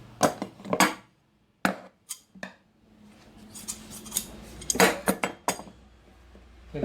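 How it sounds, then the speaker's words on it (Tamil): Scissors cutting silk skirt fabric into separate front and back pieces, with sharp crisp snips and clinking blade contacts coming in irregular bursts, close and fairly loud against a quiet room with no talking. "இதை அப்படியே ரெண்டையும் வச்சு தனித்தனியாக கட் பண்ணி எடுத்துக்கலாம்"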